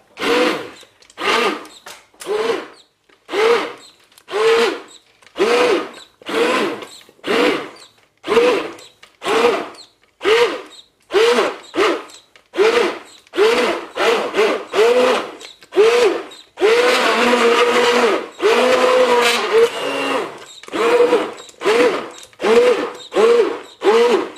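A hand blender purees vegetable soup in a saucepan, running in short, loud repeated bursts with brief pauses between them, a longer continuous stretch midway, and no talking over it.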